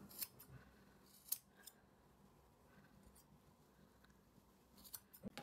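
Scissors snip through fabric for a handmade nativity figure, a few quiet, scattered cuts near the start and end with soft rustling in between, close and faint in a still room.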